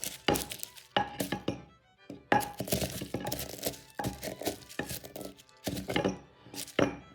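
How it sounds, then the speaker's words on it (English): Kitchen ingredients are smashed together to mix them, with repeated close thunks and clatters in irregular bursts separated by short pauses. "Just smash enough as to mix the ingredients together."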